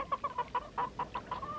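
Hungry chickens on a family's sea voyage clucking in a quick run of short, bright, evenly spaced calls, close and moderately loud, with no talking.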